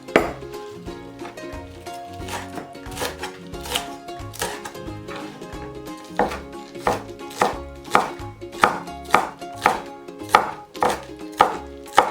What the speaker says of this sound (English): Now we cut into small pieces.